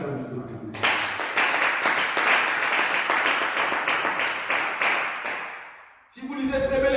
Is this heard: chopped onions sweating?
no